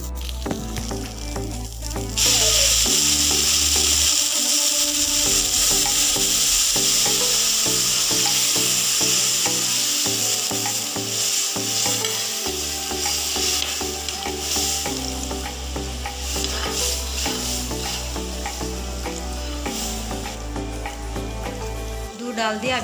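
Bread halwa with milk is stirred in a pan, giving a steady sizzle with repeated scraping strokes of the spoon, close and clear, with no talking.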